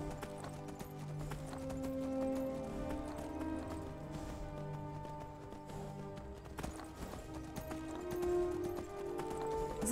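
Horse hooves clip-clopping at a run in Skyrim, a steady rhythmic patter under layered game music and ambience, moderately quiet and continuous throughout.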